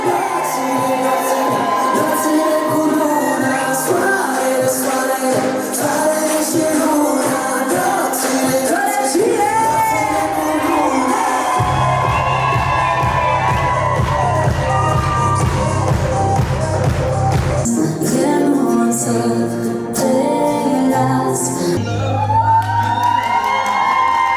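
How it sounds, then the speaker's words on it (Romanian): Wedding guests cheering, whooping and applauding as the bride and groom are introduced at a reception, loud and continuous crowd noise with music underneath throughout. "Aplauze, aplauze!"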